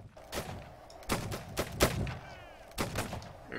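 Musket volley fired at will in a Napoleonic-era line battle video game: scattered individual gunshots crack out one after another, some close and sharp, others distant, forming an uneven ragged volley over several seconds.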